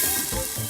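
Food sizzles briefly in a hot pan, a steady hiss of frying with a low bubbling crackle underneath.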